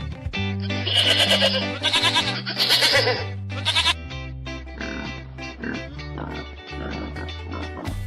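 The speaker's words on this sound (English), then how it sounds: "Goat." Goat bleating on a farm, several loud wavering bleats in quick succession over a steady low musical background, then quieter scattered calls.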